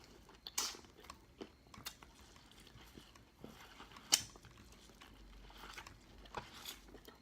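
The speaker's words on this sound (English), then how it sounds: "I'm definitely going to slurp the butter out of this corn on the cob" Someone eating buttered Cajun corn on the cob close up, with quiet wet chewing and sporadic sharp bites and crunches standing out against a soft background.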